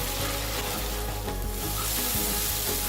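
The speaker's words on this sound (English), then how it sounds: "Let's continue to fry this on a medium flame until the paste becomes a little thicker than it is now." Stuffed chilli paste for a Malaysian Nyonya roasted fish fries steadily in a pan over a medium flame, giving a close, continuous sizzle with soft stirring scrapes and no voices.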